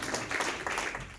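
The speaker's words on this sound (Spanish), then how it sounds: "¿Quién puede aplaudir en esta noche?" A church congregation breaks into applause during an evening sermon, a dense, steady wash of many hands clapping at once for just over a second, fairly loud and close, with no talk over it.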